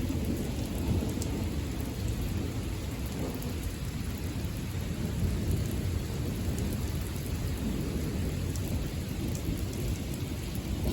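A heavy thunderstorm with lightning and a tornado warning brings a steady roar of downpour drumming on surfaces. Thunder rumbles low and continuous beneath it, close and loud the whole time with no voices.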